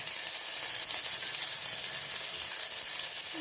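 Onions frying in hot ghee with cumin and garlic, giving a dense, continuous close sizzle that holds steady throughout with no talk.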